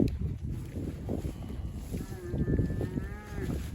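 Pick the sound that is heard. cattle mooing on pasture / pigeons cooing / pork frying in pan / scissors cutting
cattle mooing on pasture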